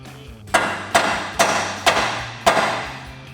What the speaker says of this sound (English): we are going to take a hammer and hit the knuckle until the drag link falls out